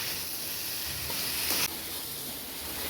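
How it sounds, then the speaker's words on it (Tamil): Eggplant pieces sauté in oil and masala in a pan, giving a steady close sizzle and hiss. A slightly louder burst of frying about halfway through suggests a stir. "இது ஒரு 2 நிமிஷம் வதங்கினா போதும்."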